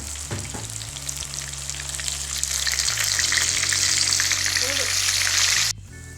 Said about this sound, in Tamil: அதுக்கப்புறம் பொரிச்சு எடுக்கலாம்